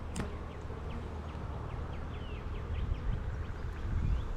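Honeybees buzzing around an open hive frame of honey and nectar in a colony preparing to swarm, a dense steady hum with individual bees droning close by.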